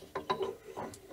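Screw being bolted onto a linear rail during a CNC machine upgrade: a few close, sharp ratcheting clicks and short metallic turns, quiet and spaced out over about a second, with no voices.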